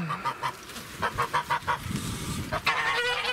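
A garden hen, disabled, squawks and honks in a rapid series of loud, close calls, with a rhythmic run of cries in the middle.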